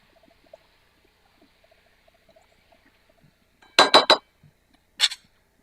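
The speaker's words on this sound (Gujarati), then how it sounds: "જે ગોટા તળી રાખ્યા હતા તે પણ એડ કરી દઈશું સાથે." Fried gota dumplings go into a pot of vegetables: a quiet stretch gives way to a quick cluster of sharp utensil clinks and scrapes, then one more clink shortly after, all close and free of talk.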